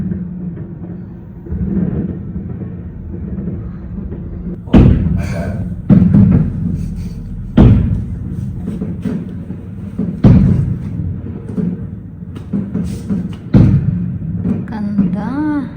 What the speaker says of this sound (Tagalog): that's why there's fireworks going now.